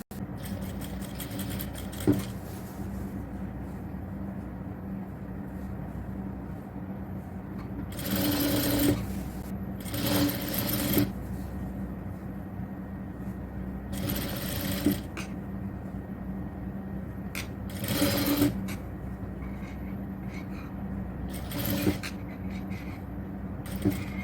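A sewing machine stitches folded fabric for an XL triple-frill nighty, running in short bursts with pauses between over a steady low background hum.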